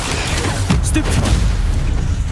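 A Stupefy spell cast in Hogwarts Legacy lands among booming in-game combat, with a sharp burst near the middle over a continuous low rumble, loud and close.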